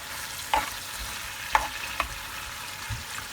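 Onion, tomatoes, celery and garlic fry quietly in a hot pan, a faint low sizzle broken by a few soft stirring knocks and scrapes, close by and without talk.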